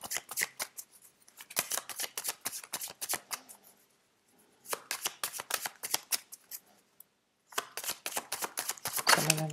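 Tarot cards are shuffled by hand in quick, crisp riffling bursts, with short pauses and a final flurry of rapid card flicks, close and fairly loud.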